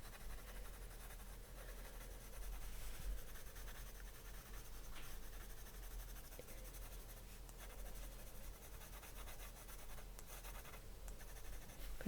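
Polychromos colored pencil rubbing steadily across paper as flower shapes are drawn, a continuous soft scratchy scribbling that runs the whole time with small shifts in pressure and no talking.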